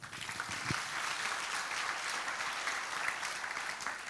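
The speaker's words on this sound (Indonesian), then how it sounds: "Nah itu boleh tepuk tangan itu" A church congregation breaks into applause during a sermon, continuous clapping from many people at moderate volume, steady from start to finish with no voices over it.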